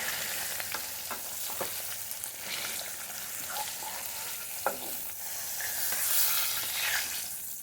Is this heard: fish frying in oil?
yes